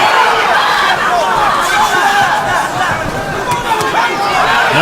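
Arena crowd at a Glory 49 kickboxing super fight series event, a dense continuous roar of cheering and chatter that stays loud and steady throughout, with voices blended into the babble.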